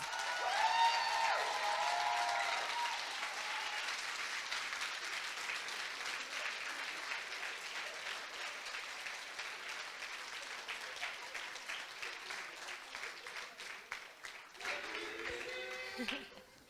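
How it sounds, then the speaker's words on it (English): An audience at a coding bootcamp demo day applauds the speakers, dense sustained clapping filling the room for many seconds before thinning out, with a voice rising faintly at the end. "They deserve another round of applause."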